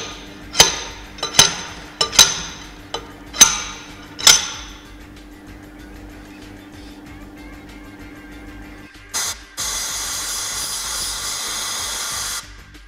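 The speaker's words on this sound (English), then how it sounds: "and then hammer it out." A sliding hammer made from an 8mm bolt knocks a copper fuel injector tube out of a cylinder head: five sharp metallic knocks in an uneven rhythm, close and loud. A quiet pause follows, then a steady hiss.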